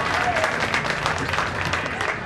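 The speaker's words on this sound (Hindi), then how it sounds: "मैं समस्त जनता जनार्दन से निवेदन करूंगा कि इनका एक जोरदार तालियों से स्वागत करें" Crowd applause at a village wrestling dangal opening ceremony, welcoming champions, steady clapping of many hands with faint murmuring beneath.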